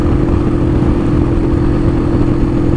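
A Superlight 125 motorcycle on an intercity road during break-in, with a twin exhaust, held around 5500 to 6000 rpm: a loud, steady mid-pitched engine drone with constant wind rush, unchanging throughout.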